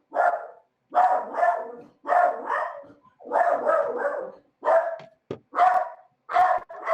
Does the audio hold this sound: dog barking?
yes